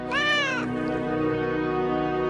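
A single cat meows once at the start, a clear rising-and-falling call lasting about half a second, then gives way to a steady, sustained tonal hum.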